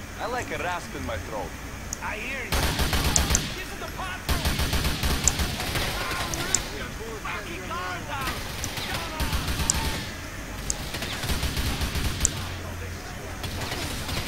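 M4 rifle gunfire in GTA IV, loud broadband bursts of rapid shots breaking out repeatedly over a dense bed of game noise and crashes.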